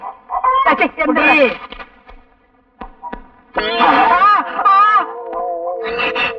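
Chickens cluck and a rooster's drawn-out call rises loudly nearby, with people talking between the bird sounds.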